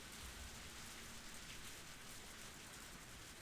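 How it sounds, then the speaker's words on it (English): Rain pattering on a rooftop in the Higurashi visual novel game: a steady, dense hiss of falling drops, continuous and faint, with no other sounds. "I heard the sound of the rain pattering on the rooftop and the raindrops jumping into puddles."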